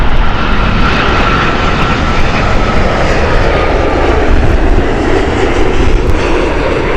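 A Vietnam Airlines Boeing 787 jet airliner at Heathrow Airport produces a loud, steady engine roar that holds throughout, broad and close with no breaks.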